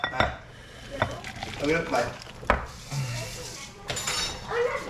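Cooked fish chowder ingredients are moved from a pot into a bowl on a home stovetop, with scattered metallic clinks and scrapes of utensil against cookware, close and moderately loud, faint background hiss between hits.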